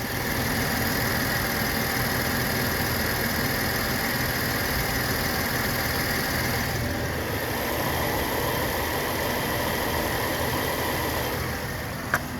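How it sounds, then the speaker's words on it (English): A 2020 Chevy Traverse engine idles steadily nearby, a continuous low rumble with a constant hum and no voices. "just be quiet for a second so you can hear the engine"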